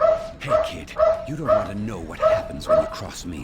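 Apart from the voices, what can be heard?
dogs barking in video game Persona 5 Royal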